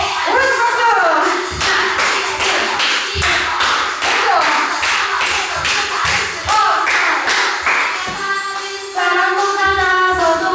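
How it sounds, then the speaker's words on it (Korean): Rhythmic hand claps from children, accompanying a sung worship song at a children's online church service, steady beats under music and singing voices. "오른쪽 박수!"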